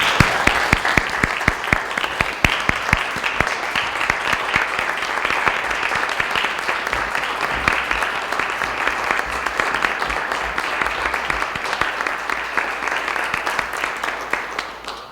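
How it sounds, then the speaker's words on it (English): A school committee meeting audience gives a sustained round of applause for a colleague, loud, dense clapping that carries on steadily for the full stretch without talk. "I'd like to ask for a round of applause for Jeff Granatino"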